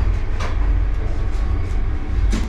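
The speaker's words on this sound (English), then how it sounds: "this is a super fast train that keeps on moving at all times" An Indian Vande Bharat Express high-speed train runs along, heard from inside as a loud, steady low rumble with a few brief rattling clatters on top, and no talk.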